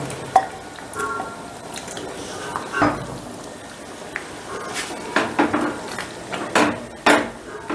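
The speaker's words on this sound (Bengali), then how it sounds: "সমস্তটা একটু আলতো হাতে মিশিয়ে দিচ্ছি" A spoon stirs mung dal with fried paneer in a metal pot, giving scattered clinks and scrapes against the pot over a soft simmering background, loud and close.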